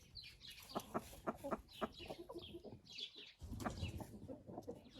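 Hens cluck in a coop housing Araucana chickens, a run of short repeated clucks and calls at close range, with no talk.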